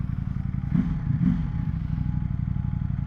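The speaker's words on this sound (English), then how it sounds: "Ooh, my bike's sounding thumpy today." A Ducati Panigale V4S engine while riding, a loud, close, thumpy low rumble with a couple of brief rising surges of revs and wind noise behind it, no talking.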